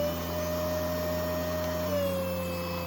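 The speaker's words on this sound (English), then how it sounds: "If you press it again, it will go to the stronger suction setting." A mattress vacuum cleaner with ultrasonic mite removal and UV sterilization runs on its stronger suction setting, giving a steady, close motor whine and hum that holds throughout, with a slight pitch drop near the end and no talking.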